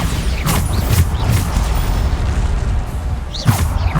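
Bombarda spell blasts from Hogwarts Legacy, a Harry Potter game, fighting trolls in the Trial of the Deathly Hallows: a few heavy booming bursts land about half a second to a second apart over a constant dense rumble of combat noise.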